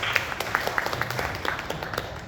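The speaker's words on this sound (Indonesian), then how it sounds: "Boleh kasih tepuk tangan?" Church congregation clapping at a first worship service at GBI Gideon in Malang, honoring the pastor's father; sparse, uneven claps with distinct individual hand strikes over a soft room background.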